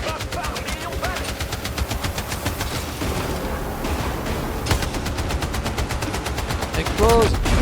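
Rapid automatic gunfire in the Battlefield 6 campaign, dense sustained bursts of shots with a brief lull midway and louder blasts near the end, with voices underneath.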